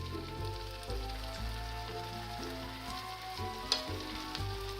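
Nutty cheesy vermicelli balls deep fry two at a time in hot oil, giving a continuous bubbling sizzle with a crackling hiss and a sharp pop near the end. No talking.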